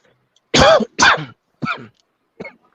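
A man coughs four times in separate bursts, the first two loud and close together, the last two quieter and spaced apart, with silence between.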